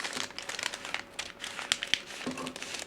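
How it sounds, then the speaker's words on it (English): Fabric being cut out for a flared sleeve, with crisp crinkling and snipping rustles in quick irregular bursts, close and fairly quiet, no talking. "So you cut it out."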